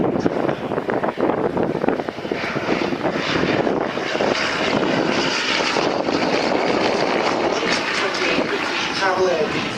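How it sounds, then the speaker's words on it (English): A 1928 Travel Air 4000 vintage biplane runs its engine at an airshow race day, a steady loud drone with wind noise and crowd murmur throughout. "Travel Air V4000 is a remarkable survivor, built in 1928."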